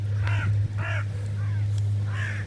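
Four harsh crow caws at uneven intervals, moderately near, over a constant low hum with no speech.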